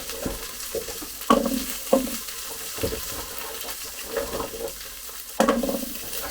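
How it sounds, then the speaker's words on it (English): Chopped swede and carrots sizzle and fry in a pot, with a steady crackle broken by sharper bursts and clatters as the vegetables are stirred and tipped in. "we'll go in with our harder vegetables first. So that's our swede and our carrots."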